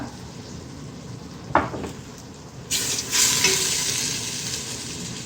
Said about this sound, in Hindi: अब इनको 2 मिनट फ्राई करते हैं।